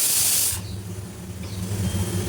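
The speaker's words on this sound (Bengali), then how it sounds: "এর মধ্যে দিয়ে দিলাম মাঝারি সাইজের বেলে মাছ" Medium-sized bele fish hit a hot pan of radish, eggplant and onion greens with a loud burst of sizzling hiss that quickly settles into a softer, steady frying sound.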